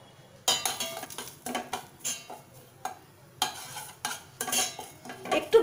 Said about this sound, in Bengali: সুজিটাকে একটু কিছুক্ষণ ফ্রাই করে নেব।